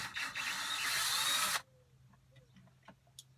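A power driver backs out 7mm hex head screws that hold a car stereo in place, a steady buzzing whir for about a second and a half that stops abruptly, followed by faint small clicks and handling noises.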